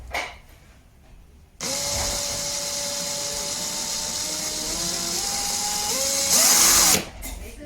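Einhell TE-CD 18 Li E cordless drill with speed control runs steadily at close range for about five seconds, its whine shifting pitch slightly before a brief louder burst near the end.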